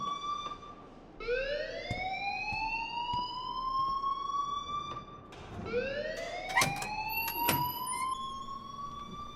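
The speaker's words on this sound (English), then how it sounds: "please turn off that alarm since that's your job." A rising and falling electronic siren-like alarm wails from the video game Life is Strange, sweeping up in repeated cycles. Each cycle lasts several seconds, with sharp clicks and clatters scattered through it.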